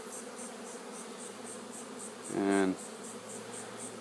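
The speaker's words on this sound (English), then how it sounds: "There's still a few thousand bees in the air" A few thousand honeybees from an escaped swarm fill the air, giving a steady, even buzzing hum throughout, with a brief louder close pass midway and a single spoken word.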